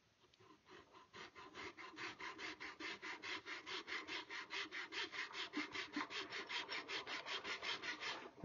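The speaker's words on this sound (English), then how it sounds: "I've just taken a regular round rasp and bent the end up, put a little handle on it" A regular round rasp with its end bent up and a small handle added files wood on a swivel breech rifle kit in a steady run of quick, even back-and-forth strokes, close and fairly soft, with no voices.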